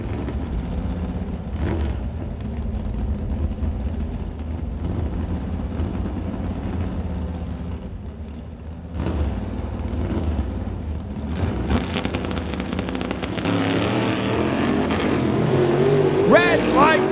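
Drag racing cars, including a Chevy II, on the strip at an NHRA Summit ET bracket race: a continuous engine drone that swells into a louder, rising roar near the end, with a voice talking over it.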